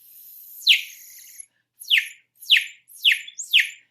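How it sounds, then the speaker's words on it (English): A water-filled toy bird whistle is blown in five short warbling chirps, a longer first burst followed by four quick evenly spaced tweets, close and fairly loud with silence between them. "Remember our bird whistle? And I'm going to blow it again so you can hear it."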